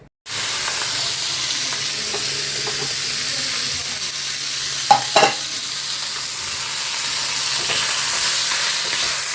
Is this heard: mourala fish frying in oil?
yes